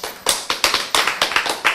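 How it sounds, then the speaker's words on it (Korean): Audience clapping during a Bible lecture, a burst of quick overlapping claps in an irregular patter, close and fairly loud, with no talking over it. "와, 박수."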